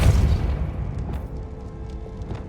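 A pushing spell from the video game Hogwarts Legacy, cast as a single deep boom up front that decays into a low rumble over a couple of seconds.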